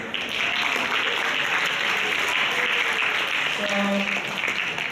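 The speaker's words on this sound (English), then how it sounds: "So give applause to all of us" Steady applause from a lecture audience at a university public talk, an even wash of clapping lasting throughout with a brief spoken word at the start.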